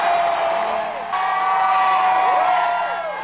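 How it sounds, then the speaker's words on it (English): A crowd cheers and whoops at a Red Sox rolling rally celebration in Boston, a loud continuous roar of many voices with a horn-like tone over it. "The crowd is going crazy"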